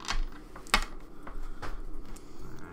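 Dice clatter sharply on a tabletop during a tabletop X-Wing miniatures game, a quick burst of small plastic clicks with a distinct louder rattle near the start, over quiet room noise.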